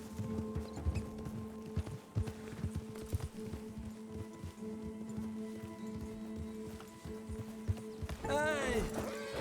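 Hooves clip-clop in a steady, rapid rhythm close by from a horse galloping in the video game Red Dead Redemption 2, with a horse whinnying near the end and voices talking over the hoofbeats.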